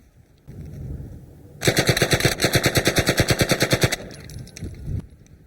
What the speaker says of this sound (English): It's open bolt sub gun. I'll pop a couple rounds. I'm going to put it on full.